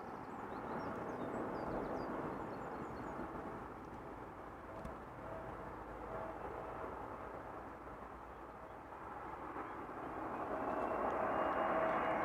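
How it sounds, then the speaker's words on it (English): EasyJet Airbus A320neo arriving from Geneva at Amsterdam Schiphol, a faint distant jet rumble that holds steady and grows slightly louder near the end, with no talk. "So next up, EasyJet A320neo."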